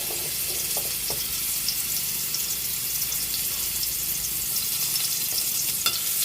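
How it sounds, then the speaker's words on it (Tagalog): Garlic sautéing in hot oil as the first step for stir-fried bitter gourd, a steady close sizzle and crackle throughout with a few light stirring clinks, no voices. "Magigisa na tayo ng ampalaya. Nalagyan man mantika. Yun. Lagay na rin natin yung garlic"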